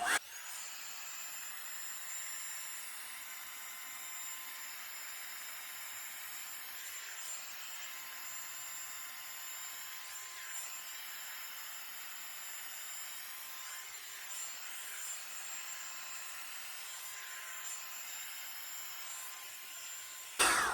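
A Revlon hair dryer volumizer blows steadily on its high setting, a continuous airy motor whoosh with a thin whine, close and unbroken for about twenty seconds, with slight shifts as it moves through hair.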